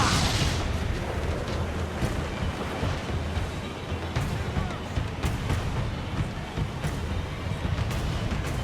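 Ship cannons firing during a naval battle in Assassin's Creed: Black Flag, a run of booming blasts over a constant rumble of sea and wind, with voices and singing mixed throughout.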